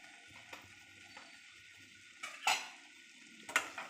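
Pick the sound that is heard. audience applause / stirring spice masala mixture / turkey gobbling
stirring spice masala mixture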